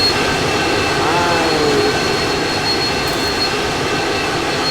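Airplane jet engine roar in the Roblox game, a steady loud broadband rumble through the whole stretch with a rising whine partway through, while voices talk over it.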